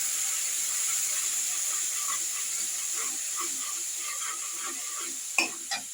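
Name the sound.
spices with turmeric stirred and cooking in a pan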